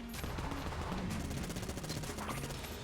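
A big gun fires in the modded video game Enter the Gungeon, unleashing rapid repeated shots in dense bursts over busy game music and effects.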